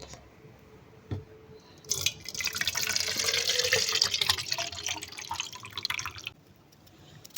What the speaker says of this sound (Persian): آب چشمه.